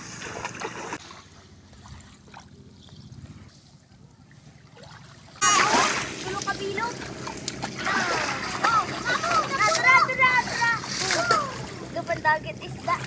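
Fishing net thrown into a calm sea for banak and kitang fish, with water splashing and sloshing in bursts after a quiet start, nearby and moderately loud.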